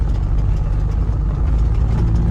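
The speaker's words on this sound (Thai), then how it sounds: "รถไถครับ" A farm tractor's engine runs at a steady idle, giving a continuous low, heavy rumble that stays loud and close with no voices over it.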